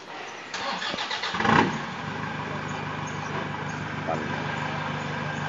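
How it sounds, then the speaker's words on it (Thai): A Toyota Vigo pickup with a knocking injector fault cranks briefly and fires up, then settles into a steady, close diesel idle with a low rumble. "สตาร์ทเครื่อง"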